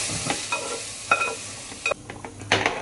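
Vegetables sautéing in oil in a frying pan for lasagne, a steady close sizzle broken by several scraping stirs and light utensil clinks, with no voices.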